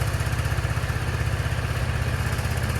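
A motorcycle engine running on a MARXON 12V 8Ah 240 CCA lithium iron phosphate battery idles smoothly nearby with a steady, even, rapid thumping pulse and a light mechanical clatter, with no voices.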